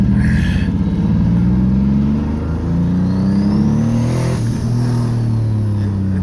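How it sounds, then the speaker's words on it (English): A turbocharged car accelerates with a loud, continuous engine drone that climbs in pitch as the revs build, with a faint rising turbo whistle above it. It sounds close and steady from inside the car. "Turbo's waking up nice, and it's getting in there."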